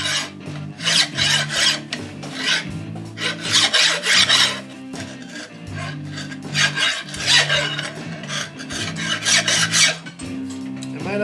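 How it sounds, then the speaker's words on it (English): A large hand file rasping across a weld on a metal vise, long rhythmic push strokes repeated steadily with short pauses between, close and loud with no talking. "So now I'm going to take my big ass file and try to level this."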